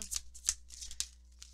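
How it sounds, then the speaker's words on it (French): Oracle cards are shuffled and drawn by hand, several quick papery riffles and flicks close up, then trailing off into quiet, soft card handling. "on va aller voir maintenant avec ce premier jeu d'oracle. Donc, on va sortir un 5 cartes."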